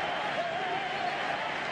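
Stadium crowd roaring steadily during a late corner kick in a 2016 Copa Libertadores football match between César Vallejo and São Paulo; a dense, even wash of cheering holds throughout without breaks.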